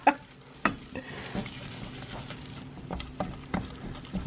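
A spoon stirring pepper into mashed potatoes made from potato chips, a couple of sharp clinks against the bowl followed by soft repeated scraping and tapping, close and quiet, no talking.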